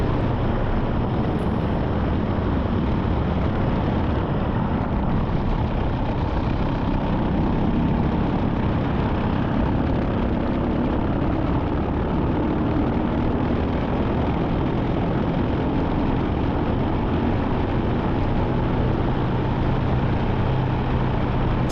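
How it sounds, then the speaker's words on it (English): A Briggs senior racing kart engine buzzes hard and steady against its rev limiter during a race at VIMC, a loud constant close drone with slight fluctuations and no speech. "Sounds like I'm all over the rev limiter here"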